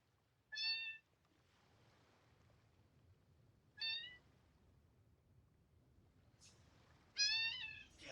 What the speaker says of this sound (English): And now my cat.